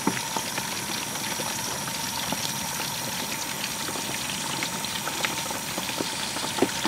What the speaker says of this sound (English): Why is it bubbling so much?